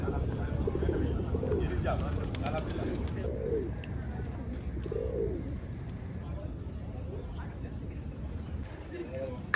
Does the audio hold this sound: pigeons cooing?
yes